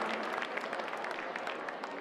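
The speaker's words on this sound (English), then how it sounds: "gets a big applause from the Shallowater faithful here in Wolford." Crowd applause from the Shallowater home fans at a girls' high school basketball regional semifinal, steady broadband clapping that holds at an even level from start to finish with no break.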